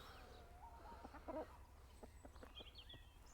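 Backyard garden chickens cluck softly at a distance, scattered short calls over a quiet outdoor background.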